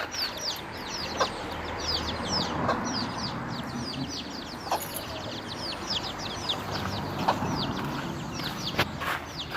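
Chickens cluck and chatter continuously at a moderate distance, a busy, steady stream of short calls over soft outdoor background noise.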